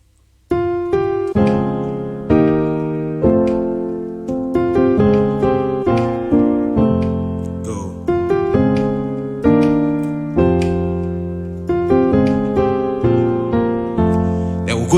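Piano intro built on an abstract chord progression: a sequence of rich sustained chords struck one after another in a steady pattern, each attack ringing and decaying, loud and close with no talking.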